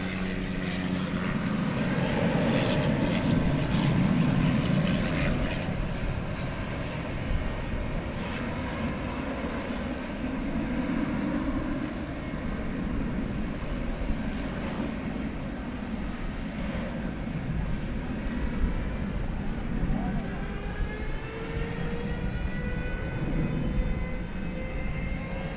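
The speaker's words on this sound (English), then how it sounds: "You can hear it, the air start, as we look at this United plane off to the city adjacent to the bay." United jet engine air start at DFW Airport, a steady broad roar with a rising whine building gradually, heard from a distance and sustained throughout without talk.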